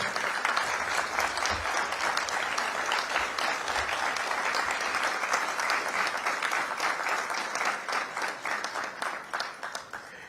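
Audience at a live event gives sustained, dense applause, steady rapid clapping from many hands throughout, moderately loud and unaccompanied by talk.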